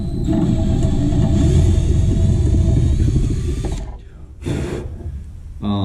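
A loud power drill with a 1/8-inch bit whirs steadily for several seconds during work on a Mazda RX-7, then stops, followed by a couple of short bursts as the trigger is squeezed again.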